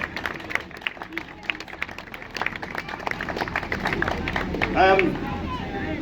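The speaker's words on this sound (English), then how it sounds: "that also deserves a round of applause for our team in Burnley as well" A crowd at an open day in a Burnley bus depot claps for the depot team, scattered claps building into fuller applause amid chatter and voices, with a voice standing out near the end.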